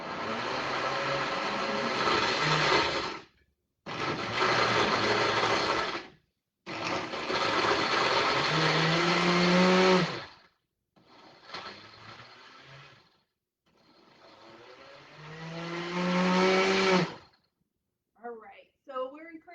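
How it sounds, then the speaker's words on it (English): A blender whirs through a peanut butter fruit smoothie in loud, close bursts of a few seconds each, separated by short pauses, its motor pitch shifting as it runs. "We're ready to blend."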